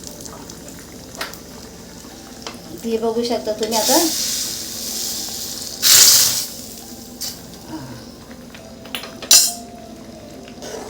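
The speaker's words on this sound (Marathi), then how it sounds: "ह्याला वरून अगदी तुपाची फोडणी दिली ना तर अगदी खूपच छान लागतं" Hot ghee tempering with red chili powder sizzles in sharp hissing bursts over lentil varan chakolya, with light clinks of utensils and someone speaking briefly.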